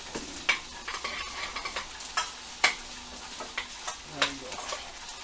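Ingredients being stirred in a pan of hot oil and butter, with a steady low sizzle and a series of sharp utensil scrapes and taps against the pan, close and clear.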